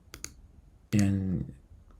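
Sharp mouse clicks while choosing Edit then Copy from a Mac menu, two quick clicks close together, then a short burst of voice-like sound.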